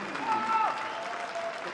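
An indoor athletics crowd applauds a long jump, a moderate wash of clapping under a commentator talking.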